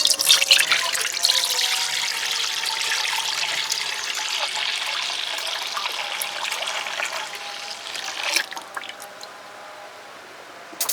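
One litre of liquid milk pours into a cooking pot for papaya payesh, a continuous trickling splash that fades toward the end, with no talk.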